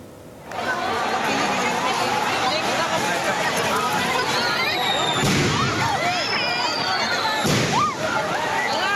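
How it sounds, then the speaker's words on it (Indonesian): Firecrackers thrown at police during a student street protest outside a provincial parliament office crack and burst amid a dense, roaring crowd din, with sharp explosive pops standing out around the middle and later on. "Masa aksi yang mulai kesal melemparkan petasan ke arah polisi yang tengah berjaga."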